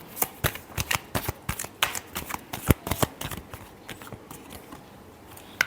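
Tarot cards being shuffled by hand for a weekly Libra reading: a quick run of crisp riffles and slaps, some in tight clusters, close and fairly quiet, with no talking.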